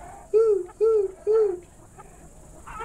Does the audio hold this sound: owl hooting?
yes